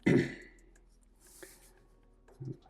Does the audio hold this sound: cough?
yes